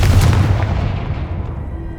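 A Confringo spell blast goes off in Hogwarts Legacy as a single loud, booming explosion that decays quickly into a fading rumble, with no talking.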